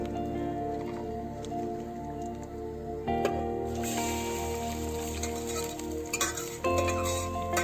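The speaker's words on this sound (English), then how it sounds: "Now we will add the puree into it." Puree added to a pan of hot oil with ginger and garlic, a soft, wet sizzle with squishy stirring noises and a few louder spoon clatters against the pan. Background music plays throughout.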